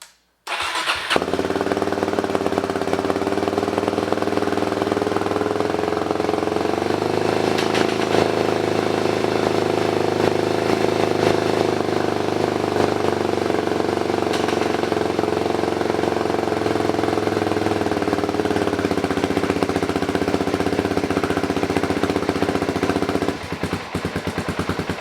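A Suzuki DRZ400E motorcycle fires up with a sharp start, then settles into a loud, steady, throbbing single-cylinder idle close by that continues for over twenty seconds.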